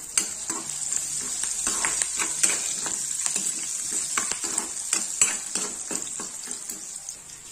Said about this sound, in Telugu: ఇవన్నీ వేగుతున్నాయి కదా, ఇప్పుడు దీంట్లోనే కొద్దిగా కరివేపాకు